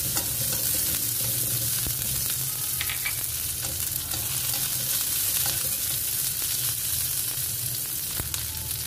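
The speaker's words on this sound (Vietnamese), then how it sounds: "dầu ăn của mình nóng rồi mình cho tỏi vào mình phi cho thơm xả bạch dọc mình cho vào luôn" Garlic and lemongrass fry in hot cooking oil, a steady dense sizzle with occasional stirring scrapes, close and continuous with no talking.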